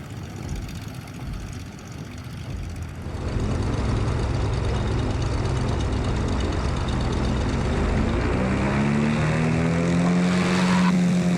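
The front engine of a Cessna Skymaster 337 starts up and revs. A soft idle jumps to a loud, steady propeller roar, and the pitch rises toward the end.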